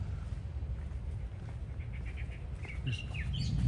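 A bird chirps and calls in short repeated notes over a steady low outdoor rumble, moderately distant, at Walt Disney World in Florida.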